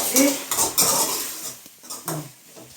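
A spoon scrapes and clanks against a pan while okra and grated coconut are stirred together for vendakkai kootu, in several close, uneven metallic strokes.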